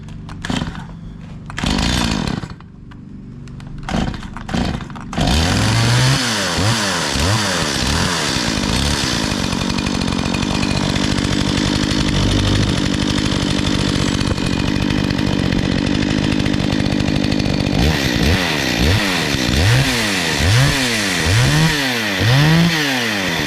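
A Stihl MS 170 chainsaw with a modified exhaust starts and runs steadily at close range, revving up and down repeatedly in a rough, buzzing drone.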